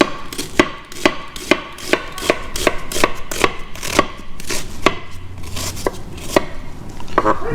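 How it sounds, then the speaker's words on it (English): Knife chopping an onion finely on a board, a steady series of sharp, close knocks about two per second, clear and without talk. "We're gonna chop it up really fine."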